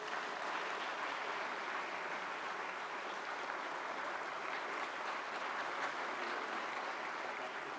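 A large audience at a ceremony where the Prime Minister releases the collected works of Pandit Madan Mohan Malaviya applauds in a dense, sustained roar of clapping, even and unbroken throughout.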